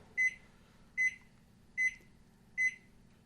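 A microwave oven heating a Michelina's poutine signals the end of cooking with four evenly spaced, short high beeps, clear and fairly close in an otherwise quiet room.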